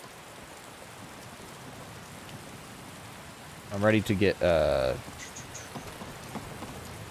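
Steady rain falling in the video game Skyrim with the Requiem mod, a soft continuous hiss throughout, briefly overlaid by someone talking in the middle.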